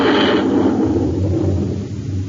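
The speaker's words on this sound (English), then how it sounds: "The Scorpion takes to the air like magic." Roar of a Northrop F-89D Scorpion jet fighter taking off, a loud, steady low rumble that starts with brighter hiss and settles into a dull drone, heard alone.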